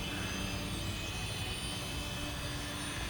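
A small toy-grade drone flies near the house, its rotors giving off a steady, unbroken buzzing whir throughout, with no voices.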